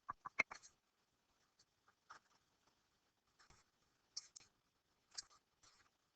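A pen drawing an angle diagram on paper: soft, faint scratchy strokes in short irregular bursts separated by quiet pauses, close to the mic.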